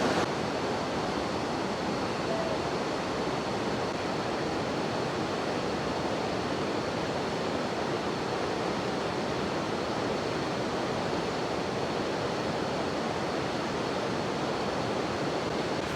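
A waterfall in Khao Yai National Park, Thailand, runs in heavy flow after a lot of rain. It makes a steady, dense roar of rushing water that stays loud and even throughout, with no voices.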